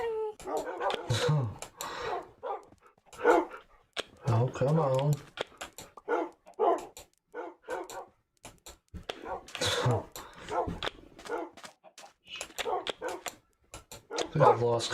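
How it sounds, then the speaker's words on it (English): A large pack of dogs in a video game barks and yips in quick irregular bursts, many overlapping voices up close, with someone talking over them throughout. "That is a lot of dogs."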